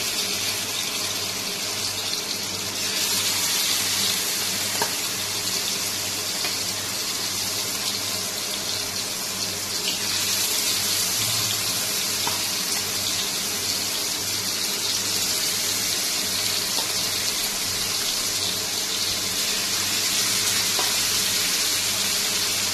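Chicken pieces fry in hot oil, started on high heat then turned to medium on an induction cooktop, giving a loud, continuous hissing sizzle that sounds almost like running water, with no voices.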